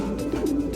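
A pigeon gives a short, low, throaty coo, heard close and alone.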